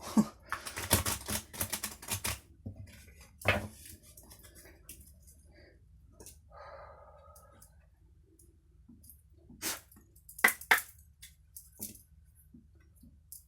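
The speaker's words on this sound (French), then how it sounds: "Je vais essayer de battre les cartes un petit peu plus loin parce qu'on entend beaucoup les cartes, malgré mon micro." Playing cards are shuffled at a slight distance from the microphone, giving bursts of crisp riffling and clicking snaps separated by quiet pauses, with no speech.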